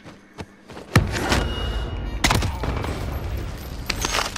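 Gunshots in a Call of Duty Warzone match, including a sniper shot: a sharp crack followed by heavy booming fire and rumbling battle noise, with another loud shot partway through and dense ongoing action.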